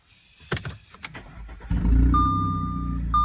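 An Audi A4/A5 B8 engine cranks briefly after a few clicks, then catches and settles into a steady idle, with a high electronic chime sounding over it.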